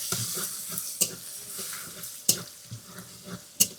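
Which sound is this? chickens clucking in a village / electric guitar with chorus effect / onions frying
onions frying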